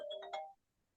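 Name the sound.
phone ringing during council meeting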